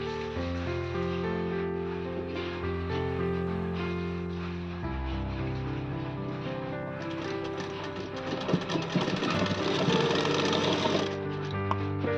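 A sewing machine stitches six-panel petticoat panels in bursts of mechanical whirring. The pace and tone shift over time, and a busier, louder stretch comes near the end, with no talk.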